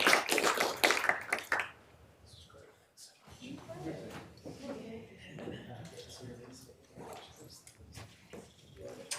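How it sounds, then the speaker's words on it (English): Applause for panelists at a talk on Russia's invasion of Ukraine rises in a dense, fairly loud burst of clapping that fades within two seconds, followed by people speaking. "please give a round of applause for our panelists"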